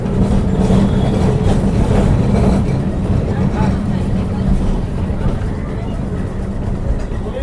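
Kolkata tram rumbling along worn tracks, a continuous low rattling drone with steady clatter throughout.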